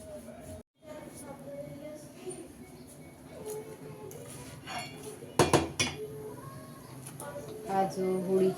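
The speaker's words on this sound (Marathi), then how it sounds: "आता मी पटकन पोळ्या लाटून घेते" Chapatis (polis) being rolled out with a rolling pin in a home kitchen, soft scraping and knocking of the pin with occasional clinks of utensils and pans, fairly quiet and close amid household background noise.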